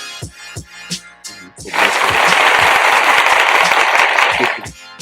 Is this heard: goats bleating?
no